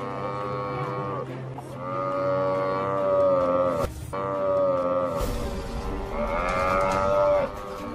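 Adult water buffalo lowing loudly and close in a wild savanna setting, two long drawn-out moos with a brief break between them, alone with no talk.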